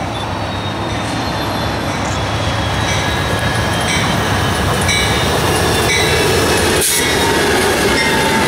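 An Amtrak Silver Star passenger train led by P42DC locomotive 184 rolls past in South Florida, a loud continuous rumble of wheels and cars with squealing and rhythmic clatter throughout.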